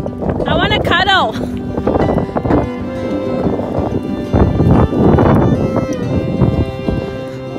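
Horse hooves clip-clop during a horseback ride in Madrid, Spain, a steady rhythmic plodding heard close under loud wind noise and frequent overlapping talk and excited voices.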